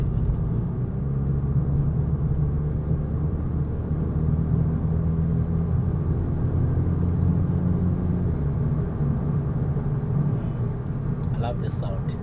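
A VW Polo GTI with 147 kilowatts drives along, its engine a steady low rumble and drone under continuous road noise, with someone talking over it throughout.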